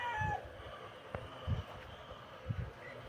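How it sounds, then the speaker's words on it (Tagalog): Roosters on a tall-breed poultry farm give short clucks and calls in three brief bursts over quiet farm background, with no one talking. "yung mga lalaking manok ni Ka Junior, matatangkad."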